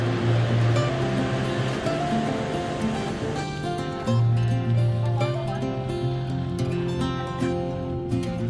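Surf rolling in at the beach at Pantai Muarambadu campsite during the rainy season, a loud, continuous wash of waves with a steady low rumble and no talk.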